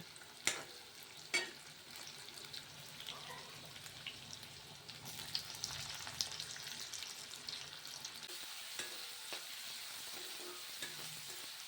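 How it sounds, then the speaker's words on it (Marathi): Chopped onion and tomato fry in oil for a dry fish vegetable curry, giving a soft, steady sizzle with a couple of sharp utensil knocks near the start, fairly quiet and close, without speech. "बारीक चिरलेला एक टोमॅटो टाकायचा आहे आणि तो पण मस्त तेलामध्ये फ्राय करून घ्यायचा आहे"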